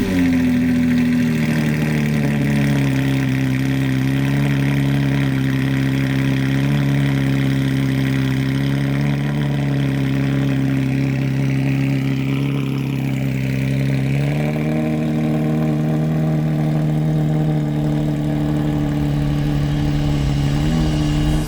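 Porsche 992 GT3 fitted with a Gintani exhaust, idling steadily with a deep, loud, droning tone and a slight dip and recovery in pitch midway, with no other sounds over it.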